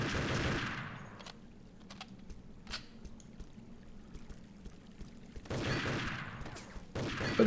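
Video game gunfire from an M4 rifle comes as short, loud automatic bursts near the start and again near the end. Quieter single shots are scattered across a low background in between.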